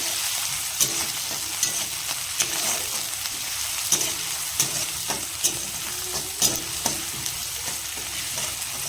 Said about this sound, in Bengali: পেঁয়াজটাকে ভাজবো ভালো করে